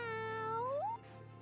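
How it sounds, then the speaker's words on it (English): A single cat meow in the game Tales of Graces, one clear drawn-out call that rises in pitch at the end and stops short, followed by quiet background hum. "Anyone want to take a stray cat off my hands?"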